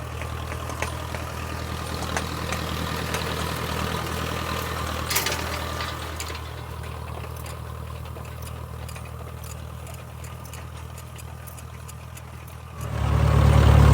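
A tractor engine drones steadily while pulling a hay rake through a late-season first-cut hay field, a continuous low rumble that grows louder near the end.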